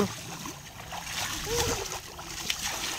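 A child in a swimming lesson blowing bubbles underwater: bubbling and splashing water close by, with a short gurgling burst midway, and speech over the water sounds.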